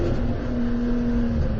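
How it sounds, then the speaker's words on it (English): Steady drone of a race car engine during a 2022 WRL endurance race at Barber, running down on pace, heard as a brief, sustained mid-distance engine tone with no talk. "This car doesn't quite sound like it's up to speed."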